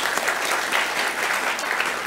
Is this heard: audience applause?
yes